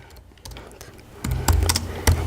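Fingers tapping computer keyboard keys while searching for Landsat 8 satellite imagery, a few crisp clicks that begin quietly and grow louder and more frequent toward the end of the short burst.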